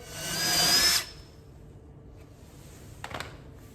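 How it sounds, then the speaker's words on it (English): A power drill whines loudly for about a second as it enlarges a hole for a door plate, then stops; a few light clicks and handling sounds follow in a quiet room. "Still doesn't fit, so we got to drill a little bit more."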